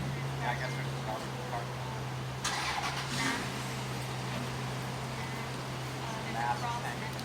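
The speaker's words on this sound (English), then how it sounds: "I guess there's a car." A car engine starts and then idles steadily on a private property, a low continuous hum running throughout with a brief burst of activity near the start, while people talk nearby.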